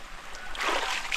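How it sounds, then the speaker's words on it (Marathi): Heavy monsoon rain splashing into standing water, a steady wet hiss that swells louder from about midway and carries on close by without any talk. "असा पडतोय पाऊस, कमी पण नाही, मोठ्या सरी आहे"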